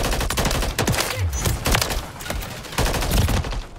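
The M8A1 burst-fire rifle in Modern Warfare 3 fires repeated short bursts of rapid sharp gunshots in quick clusters, close and punchy, amid game noise with no talking.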